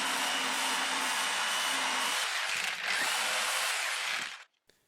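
A jigsaw cuts a rough profile in unclamped wood for a chair repair, a loud, steady buzzing whine that continues nearly throughout before cutting off abruptly near the end.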